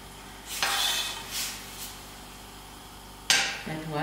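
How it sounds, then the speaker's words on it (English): Ginger garlic and mince cooking in a pan for samosa filling, with faint sizzling and a few sharp bursts of stirring and utensil scrapes against the pan. "you can add your ginger garlic, which will cook with your mince"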